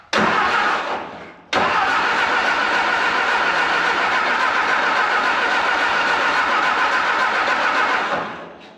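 A VW Beetle engine with a freshly cleaned carburetor is cranked over: a short burst of starter churning, a brief pause, then a long, steady, loud run of cranking that fades at the end.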